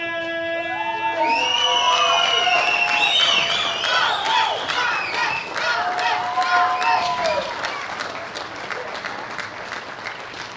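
Sustained crowd applause with cheering for a bronze medalist from host country Denmark at the 2016 World Bench Press Championships, open women 47–63 kg; loud steady clapping fills the hall, with an announcer's voice and tonal music briefly over it at the start.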